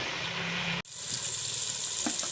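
Onions and tomatoes sizzle steadily in a hot pan for chicken achar gosht, a continuous frying hiss that briefly cuts out and then resumes with soft stirring.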